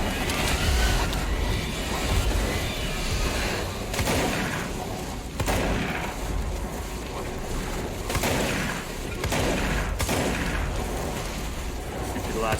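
Gunfire and impacts in the game Control, loud and dense, with repeated blasts and crashing bursts over a constant rumbling background for several seconds.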